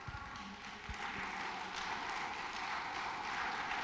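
Church congregation applauding, a dense steady wash of clapping from many hands filling the room, fairly faint and continuous throughout.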